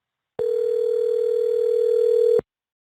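A steady, loud telephone dial tone sounds alone for about two seconds, starting and stopping abruptly, while a call is placed to a phone.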